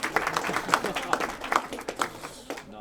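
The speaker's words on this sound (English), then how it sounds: "Round of applause" An audience gives a short, scattered round of applause for a man winning a prize, individual claps standing out irregularly with a voice talking over them.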